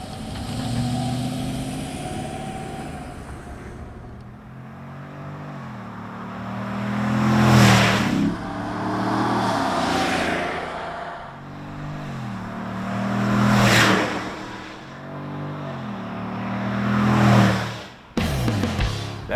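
A 2015 Chevrolet Silverado 1500 Z71 with an aftermarket cam and headers on a road test: a loud V8 engine repeatedly revving and accelerating in three strong surges, with a lumpy idle and rumble between pulls.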